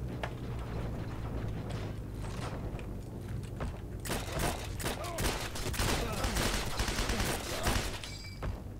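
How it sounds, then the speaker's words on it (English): Dense gunfire from a firefight in the video game Heroes & Generals, set around a church and sniper's perch: scattered shots first, then rapid overlapping volleys and bursts that grow louder and busier through the second half. "I barely won that firefight"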